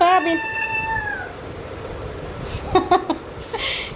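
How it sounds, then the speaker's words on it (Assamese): A cat meows several times, a drawn-out call followed by shorter mews, close by with quiet room noise between. "মেওতে ইমান মেও মেও কৰি থাকে নে?"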